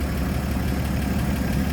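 A 1954 Chevrolet 3600 pickup's inline-six 235 engine idles steadily with a low, even rumble and faint knocking texture, heard up close in the open engine bay with no talk.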